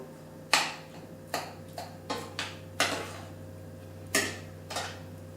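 Creamed spinach stirred in a pan with a spoon, a string of distinct clicking taps against the pan at an uneven pace over a steady low hum, no talking.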